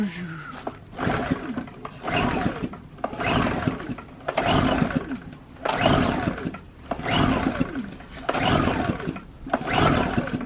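A Black & Decker BXGNI900E portable generator gets its first start attempt: a series of roughly seven rhythmic recoil pulls, each a rising mechanical whirr, while the engine fails to catch.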